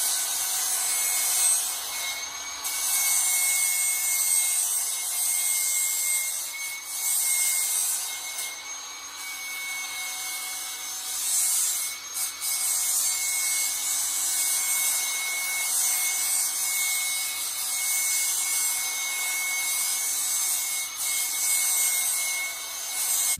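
Steady grinding against metal around a Jeep Cherokee differential cover, a high, harsh whine holding for long passes with brief dips and restarts, close and loud with no talking.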